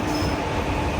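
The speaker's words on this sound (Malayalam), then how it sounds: "ട്രെയിൻ നമ്പർ 16347 നീലേശ്വരം റെയിൽവേ സ്റ്റേഷൻ്റെ പ്ലാറ്റ്ഫോം നമ്പർ 1 ഇതാ കടന്നു വരികയാണ്" Express train 16347 hauled by a WP4 diesel locomotive rolling into Nileshwaram station platform, a loud steady rumble of wheels and engine throughout.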